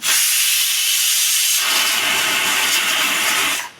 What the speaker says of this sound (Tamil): இப்போ நம்ம குக்கரை திறந்துட்டோம்